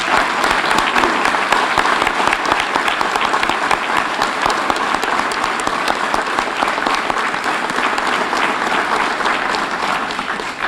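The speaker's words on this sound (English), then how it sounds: "let's have one last round of applause, please" Prolonged, dense applause from the audience at a police department promotions and awards ceremony, loud and even from start to finish with no talking over it.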